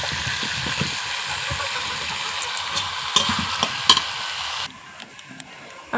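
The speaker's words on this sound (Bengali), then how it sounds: "আর এদিকে আমি মাংসটা কষিয়ে নিচ্ছি," Meat sautés in a pan with ground cumin, chili, turmeric and salt, making a close, continuous sizzle with clinks and scrapes of stirring. The frying noise drops away near the end, followed by a few clattering knocks.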